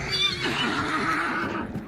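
A horse neighing, one loud drawn-out whinny with a wavering pitch, fairly close and alone.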